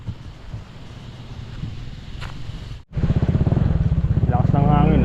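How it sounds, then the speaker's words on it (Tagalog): Strong wind roars and buffets the microphone, then a close engine starts up and drones loudly with a steady rising hum. "Lakas ng hangin"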